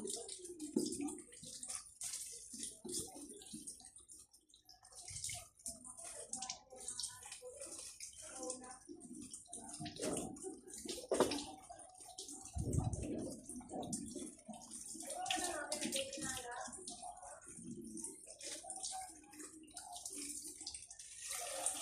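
Weak stream of tap water running during washing, a continuous trickle and splash with scattered clatter, fairly faint and steady throughout.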